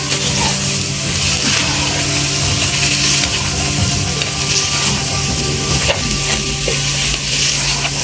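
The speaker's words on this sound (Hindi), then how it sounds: "अब इसको हमने अच्छी तरह मिक्स करना है।" Dhaba-style egg bhurji with whole and chopped green chillies being mixed in a hot pan: a loud, continuous sizzle with steady scraping and rattling from the spatula throughout, under a low hum.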